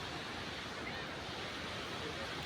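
Rushing water at Randha waterfall on the Pravara river, heard as a steady, dense roar of flow that fills the whole clip with no breaks or other clear sounds.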